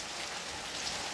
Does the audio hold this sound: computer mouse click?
no